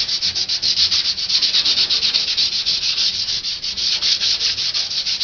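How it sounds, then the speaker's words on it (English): Steady rhythmic scraping of sandpaper lightly working rusted spots on the inside of a 1969 Chevy truck hood, close and continuous with a bright hissing texture, no talking. "just lightly sand it out."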